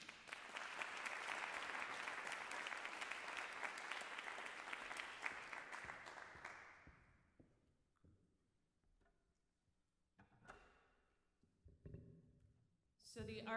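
Audience at a spoken word and poetry night applauds a performer, a dense, loud clapping that runs for about six seconds and then dies away into scattered claps, shuffling and murmurs.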